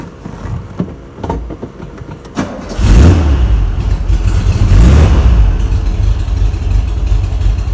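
A Volkswagen engine fitted with a programmable Bluetooth 123 ignition cranks briefly, then fires and settles into a steady, loud idle, close by with no talk over it.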